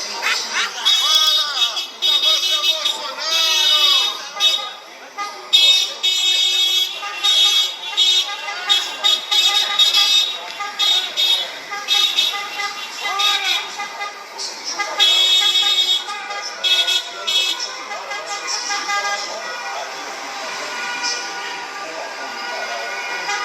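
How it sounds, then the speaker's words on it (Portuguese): A protest motorcade moves along with a loudspeaker sound truck and cars honking repeatedly, horn toots coming in irregular bursts over busy street noise, with amplified voices and music mixed in. "aqui o carro de som que tava ontem na manifestação"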